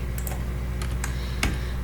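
Someone types on a computer keyboard with a misconfigured layout, producing a few sparse, sharp key clicks close by over a steady low hum, with no voices.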